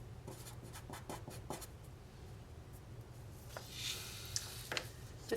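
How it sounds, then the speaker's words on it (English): Marker or pen strokes on a board or paper while a reactor and separator process diagram is drawn: a run of short, rapid scratchy strokes, close and fairly quiet, with no talking. "And we'll draw a reactor and a separator."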